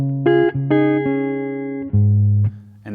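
An electric guitar plays a short riff from a song, a few sustained clean notes changing pitch in uneven steps, played alone and fairly loud with no voices.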